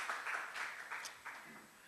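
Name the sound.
congregation applause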